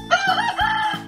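A single hen-like squawking call with several rising, cackling bursts, loud and close, with no other sounds around it.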